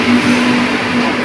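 A Nizamuddin–MGR Chennai express rumbles past on a parallel line, a loud close steady roar of wheels and carriages with a faint squealing tone running through it.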